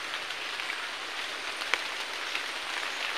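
Steady rain patters through woodland, a dense even hiss of drops on leaves with a few sharper individual drip hits standing out, close and continuous with no voices.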